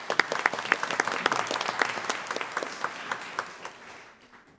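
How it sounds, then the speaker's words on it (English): Applause at a school board meeting, with a room full of people clapping briskly and a few sharp nearby claps standing out before it thins and dies away. "Another round of applause for Saul."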